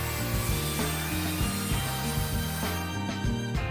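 A thin 1.2 mm plate for a handmade 150 mm sinking minnow lure is sawn with a handsaw, giving rhythmic back-and-forth rasping strokes, close and steady, with no talking.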